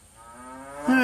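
A single cow moo, close and drawn out, rising in pitch and swelling louder toward the end.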